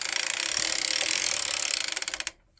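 A circular sock knitting machine is hand-cranked, giving a fast, even run of mechanical ratcheting clicks for about two seconds that slow and stop abruptly, with no talking.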